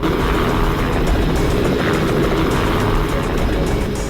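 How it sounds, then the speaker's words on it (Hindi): A helicopter takes off with a loud, steady roar of rotor and engine that fills the whole stretch, close and continuous, with no voices. "यकीन नहीं हो रहा वो हेलीकॉप्टर में है"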